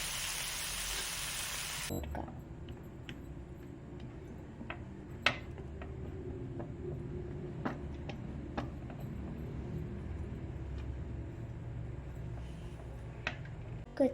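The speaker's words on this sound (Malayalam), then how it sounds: "നമ്മൾ നേരത്തെ ഉണ്ടാക്കിയ പനീർ ഇട്ട് ഫ്രൈ ചെയ്തെടുക്കാം" Paneer fries in a pan with a soft, steady sizzle after a brief louder burst at the start. Occasional light clicks of a utensil sound over it, and no one speaks.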